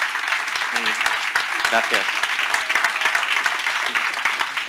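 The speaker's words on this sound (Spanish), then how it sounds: "Un aplauso, venga." An audience at an international inclusion congress applauds continuously for several seconds, a dense steady clapping, with a voice briefly speaking over it.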